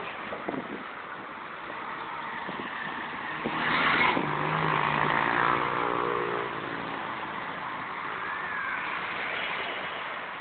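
Car traffic on a busy street in Salvador, a steady roar of passing vehicles with one car swelling louder as it drives by close, then a continuing hum of engines further off.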